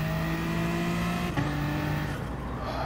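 A NASCAR stock car engine in Gran Turismo Sport drones steadily at high revs with sustained harmonic tones. Pitch dips briefly midway as if shifting, then pulls on, loud and close, with no talk.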